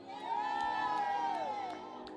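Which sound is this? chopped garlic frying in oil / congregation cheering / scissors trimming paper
congregation cheering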